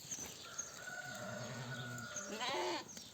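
Sheep and lambs bleat, one long drawn-out call followed by a wavering higher bleat, close by with faint background noise.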